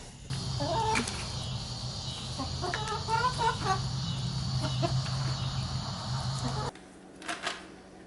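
Several chickens cluck and murmur nearby in a steady chorus over a low mechanical hum, which stops abruptly near the end.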